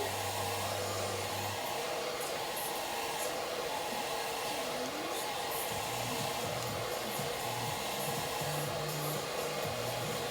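A hair dryer blows steadily and loudly while blow-drying hair for a wedge full-volume style, a constant whooshing roar with no pauses or talk over the whole stretch.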